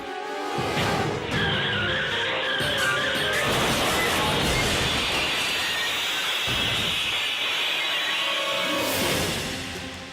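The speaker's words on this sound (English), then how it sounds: "In the blink of an eye, a rampaging car pulverizes the front of the shop." A rampaging car smashes into the front of a shop, a loud burst of skidding, crunching impact and flying debris building over several seconds before fading.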